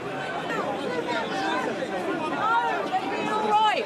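A loud protest crowd on a UK street with heavy police presence, a dense roar of shouting and chatter close around, with voices rising and overlapping throughout.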